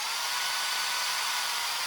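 A power drill whirs in a school-set horror video game, a steady bright high-pitched buzz running continuously and loud with no talking.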